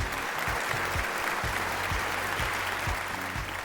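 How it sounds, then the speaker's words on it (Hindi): Applause for a judge on a Pakistan Idol gala round television show, a full studio audience clapping steadily and loudly throughout, with dense rhythmic claps and no pauses. "भरपूर तालियां इनके लिए।"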